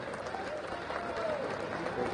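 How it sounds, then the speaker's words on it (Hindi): A crowd at a political event applauds a visiting defence minister, a faint, distant wash of clapping that holds steady throughout, with voices and faint tonal sounds mixed underneath. "दोनों हाथ ऊपर उठाकर तालियां बजाकर पीछे भी जरा अभिनंदन करें"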